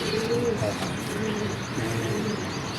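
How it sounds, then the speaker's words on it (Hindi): A pet pigeon coos in soft, low repeated calls close by, under a steady wash of outdoor background noise and other birds. "ये है कबूतर हमारा बादल।"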